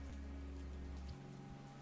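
A rain downpour falling at a graveyard, heard as a soft, steady hiss of drops over a low, constant background hum that drops away partway through, with no voices.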